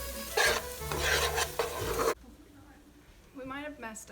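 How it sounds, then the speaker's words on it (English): Onions sizzle and are stirred in a frying pan, a loud, dense hiss with scraping for about two seconds before cutting off abruptly, followed by quiet room noise and a brief voice. "Once the onions start to sizzle, you have to stir them up."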